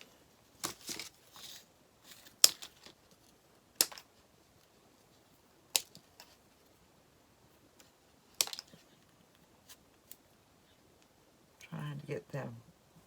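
Scissors snip pieces off a gingerbread rolling pin, sharp isolated clicks spaced irregularly, with a short rustling burst near the end.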